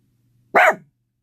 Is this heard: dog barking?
yes